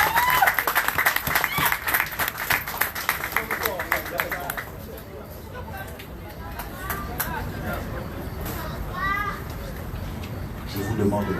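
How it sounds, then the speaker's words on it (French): Audience applause at a community sharing-day event. Loud clapping comes from a crowd with children present, then fades into crowd chatter and children's voices with scattered claps and movement, and the clapping picks up again near the end. "Sous vos merveilleux applaudissements."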